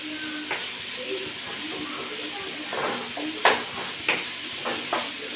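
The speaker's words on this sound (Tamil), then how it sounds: "நல்லா வதக்கிக்கணும்." A vegetable masala paste is sautéed in a pan: a soft, constant sizzle under repeated scraping and tapping of a spoon against the pan, with a few sharper clinks, all fairly faint.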